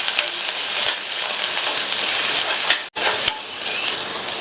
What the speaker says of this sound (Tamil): கறிவேப்பிலையை சேர்த்து இந்த வெங்காயத்தை லைட்டாக வதக்கி விட்டால் போதும்